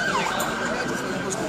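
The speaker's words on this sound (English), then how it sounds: "Ambulance." An ambulance siren wails steadily in the background at moderate distance, its rising and falling tone sustained throughout over street noise at an outdoor rally.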